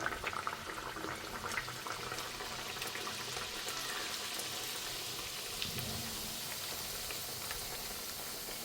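Bhatura dough frying in hot oil, a continuous fine bubbling sizzle with scattered crackles, steady and fairly close, alone without talk.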